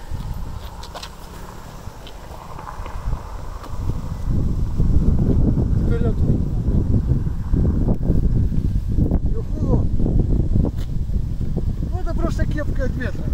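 Strong wind buffets the microphone while riding a Dualtron Victor electric scooter, a loud continuous roar that builds after a few seconds as speed picks up, with someone talking over it.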